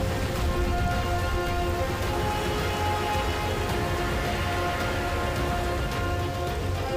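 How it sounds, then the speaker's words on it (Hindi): Steady, dense monsoon rain pours down continuously in Indonesia, a heavy broadband wash of drops with no voices, constant in level throughout. "यह भारी बारिश अब अगले 6 महीने तक आती जाती रहेगी।"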